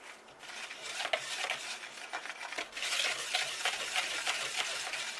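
Bath bomb ingredients being mixed by hand in a bowl, a dry rustling, scraping stir with irregular gritty strokes, fairly quiet and close, no talking.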